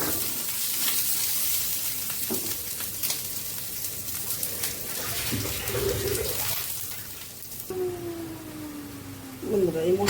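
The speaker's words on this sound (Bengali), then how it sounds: "এই মশলাটা আমি খুব ভালো করে কষিয়ে নেব।" Ground spice paste of turmeric, chilli, and cumin frying in a pan for a Bengali fish curry, a steady close sizzle with occasional stirring scrapes and a voice speaking over it.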